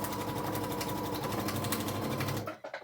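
Sewing machine running steadily as it stitches quilt block pieces together, a loud continuous motor whir with rapid needle chatter that stops abruptly near the end.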